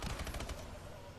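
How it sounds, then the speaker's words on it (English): Machine gun fire in a video game, a short quick burst of rapid shots that fades out within about a second, quiet and somewhat distant. "Over here using my machine guns and shit"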